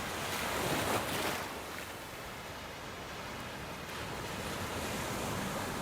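Ocean surf washing against a rocky shoreline below trees, a continuous broad roar of breaking waves mixed with gusty wind buffeting the microphone, steady and fairly distant.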